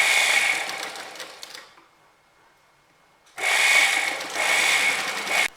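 A sewing machine stitches a strip of salwar fabric in two close, rapid whirring bursts, separated by a pause of near silence.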